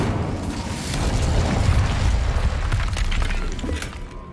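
Incendio fire spell cast in the video game Hogwarts Legacy, a loud whooshing burst with crackling, shattering texture that swells and holds for a few seconds before tailing off, close and alone.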